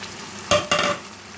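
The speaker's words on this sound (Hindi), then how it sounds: "इनको भी हमने चिकन के साथ अच्छी तरह से फ्राई कर लेना है" Chicken, potatoes and arvi fry together in a pan: two quick, loud stirring scrapes rise over a close, soft sizzle in a brief moment.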